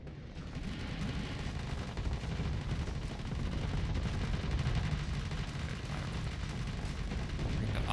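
Dense, continuous rocket and weapons fire from a space battle in the game Starsector, a steady rumbling barrage of blasts and booms that stays loud and unbroken throughout.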